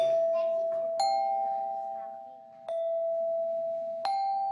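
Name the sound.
child imitating pitched musical tones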